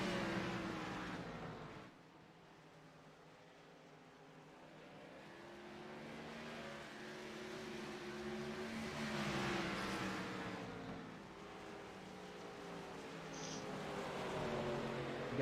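Stock race cars battling for position on the North Wilkesboro oval, a steady distant engine drone that swells and fades as the pack circles, with wind noise on a cloudy day and no talk.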